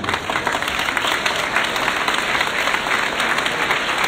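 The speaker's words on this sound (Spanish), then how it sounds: "Le brindamos un fuerte aplauso." A crowd applauds steadily throughout at a school-year opening ceremony in Colima, with dense, sustained clapping and no break or speech.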